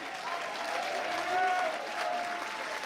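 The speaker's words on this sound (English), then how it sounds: "give yourselves a round of applause for selling out this building tonight" Steady applause from a large audience at a sold-out live concert fills the venue, with some whistles and cheers mixed into the dense clapping.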